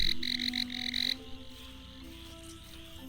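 A frog croaks in the video game Empires of the Undergrowth, a run of loud, evenly spaced croaks in the first second with game music and ambience carrying on underneath.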